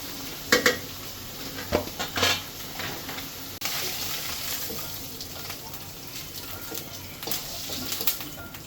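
Fish sizzles steadily in a frying pan, with scraping and clinks of a utensil stirring at intervals.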